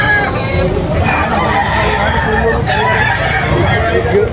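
Roosters crow at a gamecock market in Tabunok, Talisay, Cebu, sounding over a dense, steady crowd murmur with overlapping voices throughout.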